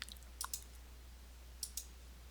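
A computer mouse clicks while someone plays modded Minecraft: a few sharp, quiet clicks, some in quick pairs, scattered across an otherwise silent stretch.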